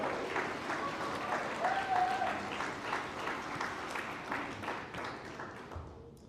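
Students at a scholar athlete awards event give a long round of applause for their parents and guardians, a broad, moderately loud crowd clapping that holds steady and then tapers slightly at the end.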